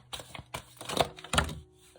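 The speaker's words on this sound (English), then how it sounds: "These cards are huge to shuffle." Oversized tarot cards shuffled by hand in a quiet room, giving a few irregular soft slaps and riffling bursts close to the listener, with no talk over them.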